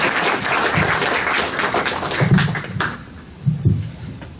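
An audience at an academic panel on judges and experts applauds a speaker's introduction: steady, dense clapping for about three seconds that thins out into a few scattered claps.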